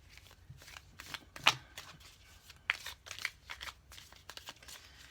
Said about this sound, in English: I just shuffle this way a little bit more